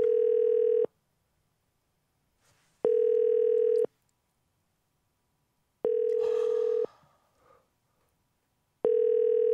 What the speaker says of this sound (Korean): 이게 전화 소리 들으면서 초조하긴 또 처음이네.